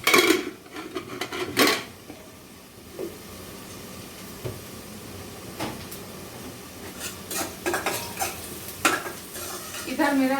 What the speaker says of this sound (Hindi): लहसुन और प्याज भुन गया है।